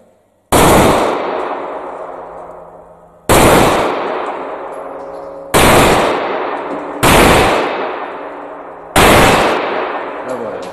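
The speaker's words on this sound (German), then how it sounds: "So, und jetzt schießen wir mal mit der 9mm Kanone." Five loud, sharp 9mm pistol shots, fired with Magtech ammunition at a poly-wood sandwich panel, each cracking out with a long decaying echo, spaced irregularly about two seconds apart.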